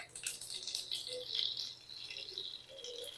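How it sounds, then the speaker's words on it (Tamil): Mustard seeds spatter and crackle in hot oil as a busy, continuous sputter with no one talking. "நல்லா கடுகு வெடிச்சு வரட்டும்."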